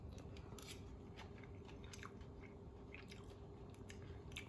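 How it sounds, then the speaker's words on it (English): Quiet close-up chewing of homemade tuna salad, soft wet squishes and small crunchy bites at an irregular pace, with no talking. "give it a little taste."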